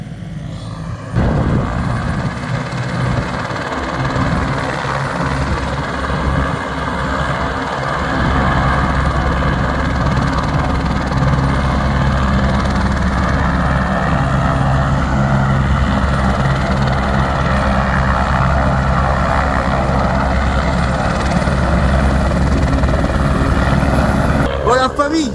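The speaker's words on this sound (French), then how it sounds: "J'ai un pote qui va mettre des pylônes en place avec son hélicoptère" A helicopter's steady rotor thrum and engine drone fill the whole stretch, loud and continuous, with a voice speaking over it; the helicopter is used for placing pylons.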